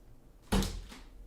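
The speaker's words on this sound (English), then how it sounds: "Door didn't quite close." A door swinging shut without fully latching in a home where a cat is shut in, giving a single close, sharp wooden knock followed by a short rattle and a brief second bump.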